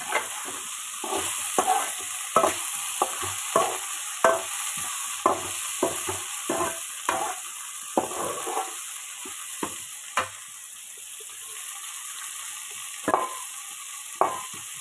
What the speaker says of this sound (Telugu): ఇక నూనెలో తాలింపు గింజలు వేసుకొని కరివేపాకు వేసుకొని వేపుకోవటం.